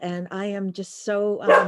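A pet dog barking at home with a few sharp yips over a woman's speech, close and fairly loud.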